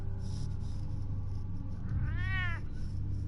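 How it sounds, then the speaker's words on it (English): A cat in Batman: The Telltale Series lets out a single drawn-out, wavering meow over a low hum of game background sound. "That ugly cat."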